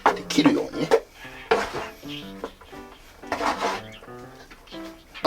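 Sushi rice is turned with a slicing motion while vinegar is added a little at a time: soft, close scraping and sliding strokes of a paddle in a bowl come in short bursts beneath a person talking.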